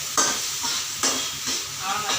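Blood fry (ratha poriyal) stirred in a pan on a stove, with a steady close sizzle broken by scraping stir strokes roughly every second, no talk.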